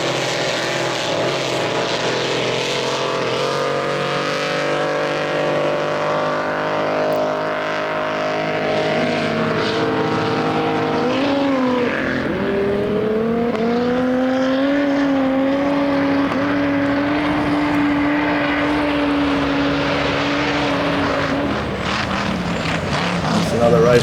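Power boats racing on the Upper Hawkesbury River at Windsor, a sustained loud engine whine that climbs and shifts pitch as a boat passes, heard continuously over a distant crowd-like background, with a voice speaking at times.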